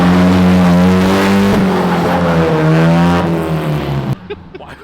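A rear-wheel-drive Honda Civic's engine revs hard and steadily while drifting, loud and close with rising and falling harmonics, cutting off abruptly near the end.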